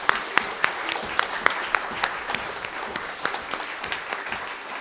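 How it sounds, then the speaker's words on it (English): Audience at a festival concert applauding the customer service team, a steady wash of clapping with a few sharp individual claps standing out near the microphone. "please, a huge round of applause for the customer service team"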